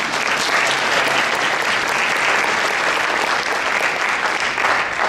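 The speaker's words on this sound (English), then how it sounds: "So, a round of applause to you guys." Full, steady applause from the audience at a math and science honor society induction ceremony, loud and unbroken from start to finish.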